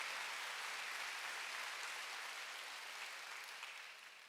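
A church congregation gives a steady round of applause, a faint, dense wash of clapping that fades slightly toward the end.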